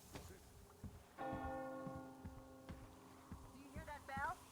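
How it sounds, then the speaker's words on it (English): A church-style bell tolls once in the ruined world of the Metro Exodus video game, its long ringing tone sustaining for several seconds over footsteps and movement sounds, with a brief metallic warble near the end. "you hear that bell?"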